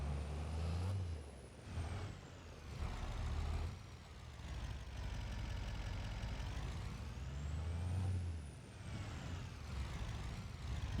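A truck in Farming Simulator 25 drives on a farm, its engine droning loudly with swelling revs and shifting pitch, plus a hiss of air brakes, with no talking.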